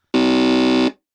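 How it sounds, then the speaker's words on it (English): A game show buzzer pressed once by a contestant gives a loud, steady electronic buzz that holds for under a second and then cuts off cleanly. "All you need to do is press the buzzer."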